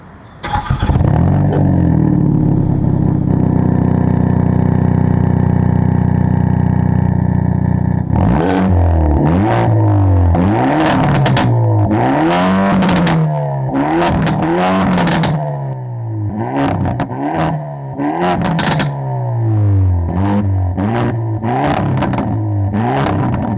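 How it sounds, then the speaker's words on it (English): A Hyundai i30 N's turbocharged four-cylinder engine starts with a loud flat idle, then revs repeatedly in sharp rising and falling bursts, close and loud with crackling between blips. "I reckon that sounds pretty good for a 4-cylinder Korean car"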